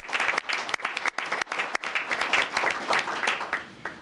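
A meeting room audience at a May 2010 CFSAC session applauds Dr. Snell, the new chair. The clapping is brisk and moderately loud, with a few brief breaks, and swells and holds steadily before tapering at the end.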